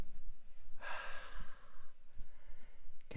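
A person imitates the north wind with a soft, breathy whooshing blow lasting about a second, set against a faint, low rumbling background.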